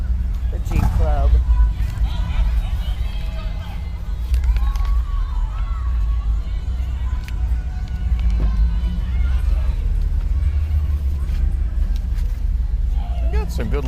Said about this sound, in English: We got some good looking Jeeps coming through here.